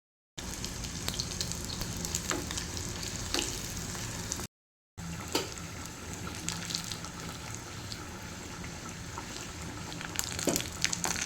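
Garlic frying in hot oil after mustard seeds have popped, a steady crackling sizzle running for several seconds, broken by a brief silent gap, with scattered sharper pops and light stirring.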